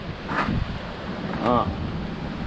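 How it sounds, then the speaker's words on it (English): Gusty wind roars against the microphone outdoors, a low buffeting rush, with a voice briefly speaking over it. "it's windy out here today."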